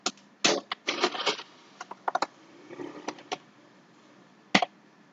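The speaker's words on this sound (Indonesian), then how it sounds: "Kita coba seperti biasa untuk mengetik nama channel ini." Bursts of keystrokes on a computer keyboard, clustered in quick irregular runs with short pauses and one sharp tap near the end, close and clear with no talking.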